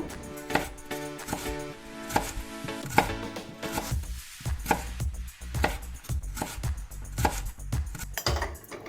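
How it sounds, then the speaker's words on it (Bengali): A knife slices onions very thinly on a board, making a run of crisp, evenly spaced close chops with brief pauses between strokes. "আমি বেরেস্তার জন্য খুব পাতলা পাতলা করে পেঁয়াজগুলোকে কেটে নেব"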